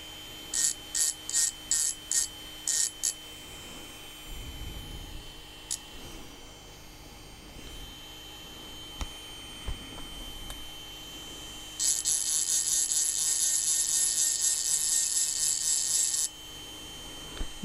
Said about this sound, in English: I'm running the drill quite slowly